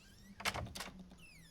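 Doors swinging shut inside the horror game Layers of Fear: two close thuds in quick succession with a faint creak, over a low background hum.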